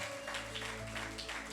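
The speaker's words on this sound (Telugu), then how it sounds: "గట్టిగా చప్పట్లు కొడుతూ ప్రభు నామాన్ని మహిమ పరుద్దాం" Church congregation clapping together to praise the Lord, a rhythmic burst of many hands beating in time, fairly soft, with a held musical tone beneath.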